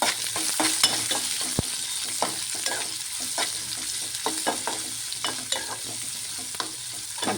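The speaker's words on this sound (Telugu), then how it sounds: "ఇప్పుడు జీడిపప్పు, అలానే ఉల్లిపాయ ముక్కలు వేసుకుంటున్నాను." Cashews and onion pieces fry in a pan with a steady bright sizzle, broken by scattered crackles and stirring scrapes, close and loud, with no talk.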